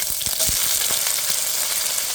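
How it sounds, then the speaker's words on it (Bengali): Garlic, onion and ginger fry in hot oil in a wok, giving a steady, loud sizzle with a few stirring scrapes and pops, close up and without voices. "একটা কড়াইতে তেল দিয়ে প্রথমে আমি রসুন দিয়ে দিয়েছি"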